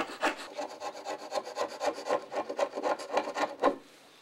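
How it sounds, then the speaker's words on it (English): A sharp paint scraper held flat scrapes squeezed-out wood glue off a wooden surface, making a close series of quick rasping strokes in steady rhythm, loud and alone. "I found that one of the easiest ways to clean up glue that has squeezed out is to remove it with a paint scraper"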